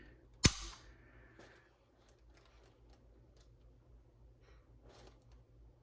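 A single sharp trigger-gauge snap on a Browning BAR MK3 rifle in .270 WSM during a trigger pull test, one crisp click early on, then faint small handling ticks over a quiet room.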